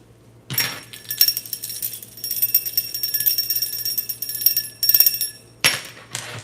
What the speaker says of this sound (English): My little bell.